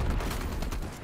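Rapid automatic gunfire from Call of Duty: Black Ops Cold War, a dense, loud burst of shots filling the short moment with no talking over it.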